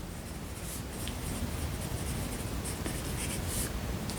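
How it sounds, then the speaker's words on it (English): A pen scratches steadily across paper, a soft continuous scribbling heard close up and alone in a quiet room. "Let's write that down."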